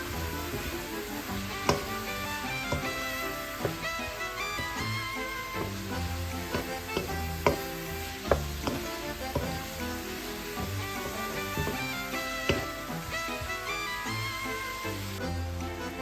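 Bami noodles stir-fried with chicken in a hot pan, a steady close sizzle with repeated scraping and tossing clicks from the spatula, continuing with no talk.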